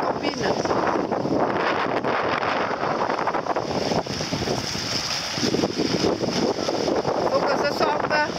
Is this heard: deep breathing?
no